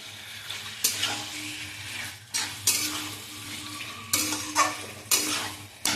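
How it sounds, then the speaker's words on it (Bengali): Chicken pieces are stir-fried with spices in a pan, a continuous sizzle broken by repeated scraping strokes of a spoon against the metal, close up and with no talking. "এবার আমি মশলার সাথে মাংসের সাথে ভালো করে কষিয়ে নেব।"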